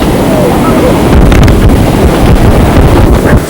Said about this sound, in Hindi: निकलता हुआ पानी, उसकी सुंदर आवाज, उसका तेज बहाव